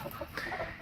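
A rare-breed game fowl rooster gives a brief, soft cluck or two, heard close and alone.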